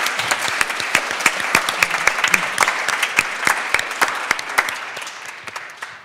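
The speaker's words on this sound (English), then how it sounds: "A round of applause for all of them." An audience at an evening panel on oil politics and money claps loudly for the speakers, crisp individual claps standing out over a dense wash that gradually thins and fades toward the end.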